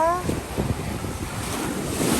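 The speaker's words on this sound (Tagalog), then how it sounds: "mukhang galit na galit ang dagat ah. Malalaki ang alon." Rough surf with big waves crashing and rumbling continuously at Marago, Mindoro, in light rain, with strong wind buffeting the microphone throughout.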